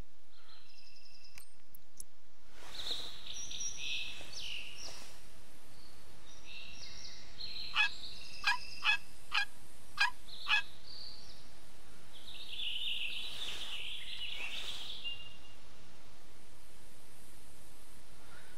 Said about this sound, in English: There's turkeys around here. I might as well hit the box caller.